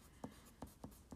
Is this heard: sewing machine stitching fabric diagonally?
no